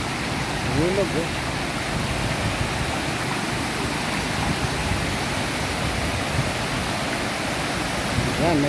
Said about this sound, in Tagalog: Ayan natin yung ilog, eh.